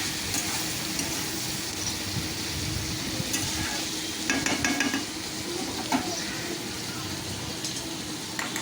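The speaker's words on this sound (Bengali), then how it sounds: "2খানা টমেটো যে কুচিয়ে রেখেছিলাম সেটা আমি এখানে দিয়ে দিলাম, দিয়ে একটু নাড়াচাড়া করে নেবো" Chopped tomatoes stirred into frying onion masala for a Bombay duck (lote fish) kosa: steady hissing sizzle with occasional spoon scrapes and light clinks against the pan.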